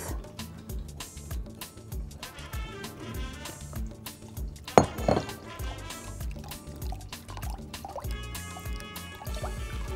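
Bulgur is rinsed under running water with trickling, sloshing and dripping sounds, a brief louder splash in the middle, and soft kitchen clatter around it.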